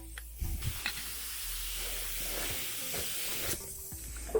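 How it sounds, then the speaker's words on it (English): A paint spray gun applies metal flake paint with a steady, soft airy hiss lasting about three seconds, starting and stopping cleanly in a quiet spray area. "So we got to stop talking and start spraying."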